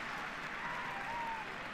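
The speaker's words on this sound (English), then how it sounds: "Big, huge cheer for Tomás O'Shea going off" A crowd at Páirc Uí Chaoimh applauds and cheers during a 2010 Munster Gaelic football semi-final replay between Cork and Kerry, a steady, distant roar of clapping that holds throughout.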